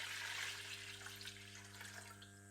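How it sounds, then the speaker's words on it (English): About two litres of water poured into a pot for rhubarb and elderflower cordial, a steady rushing, splashing stream heard up close and continuous throughout, with no talking over it. "this is about 2 litres of water going in"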